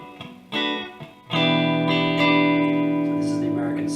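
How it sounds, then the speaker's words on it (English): A Fender American Standard Telecaster, played clean on the neck pickup through a Roland Blues Cube Artist amp with a Keeley Caverns reverb pedal, rings out in sustained chords with reverb tails after a few short plucked notes. "So this is the clean sound that's going through my Roland Blues Cube Artist."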